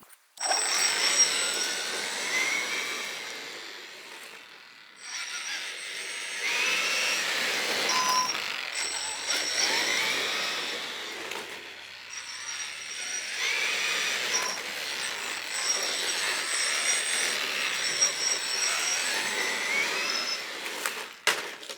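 A 3D printed RC hot rod running on a 3S 50C LiPo battery whines at high pitch through long bursts of acceleration, with a brief pause around five seconds and tire scuffing, close and steady.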